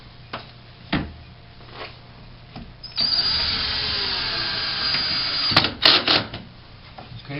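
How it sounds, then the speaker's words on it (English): A power drill drives No. 4 by 3/4 inch screws through L clips while a closet shelving kit is installed, with a sustained whirring run of a few seconds, then short bursts and a few handling knocks around it. "I'll go grip my drill and a couple screws to tack this in place."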